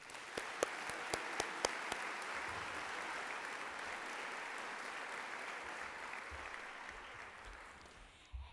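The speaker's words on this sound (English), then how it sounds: "Please join me in giving Dale Clifford a round of applause." Audience applause at the 2019 Cal Poly convocation: a few sharp, distinct claps open into sustained, even applause from a large crowd that holds steady before tapering off at the end.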